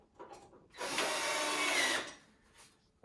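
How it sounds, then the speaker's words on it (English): A power drill drives screws into a wooden World Market potting bench, one loud, close, steady whir lasting about a second, surrounded by lighter handling clatter. "this is why you want to use the power tool rather than just a handheld"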